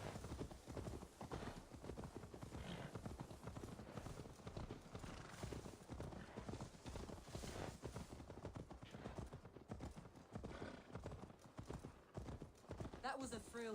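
Galloping horse hooves in Assassin's Creed Valhalla clatter in a fast, unbroken clip-clop rhythm throughout, loud and close, with voices talking over them.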